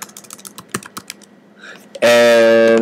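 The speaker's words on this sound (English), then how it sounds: "And I will type in Santa Barbara." Typing on a computer keyboard: a close run of light, quick key taps for about two seconds, then cut off by a loud, sustained tonal sound that lasts to the end.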